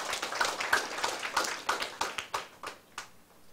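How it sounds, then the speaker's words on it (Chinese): An audience at a law-study seminar closing claps in uneven, fairly quiet bursts of hands that thin out and taper toward the end, with no talking. "甲鼓掌一下。"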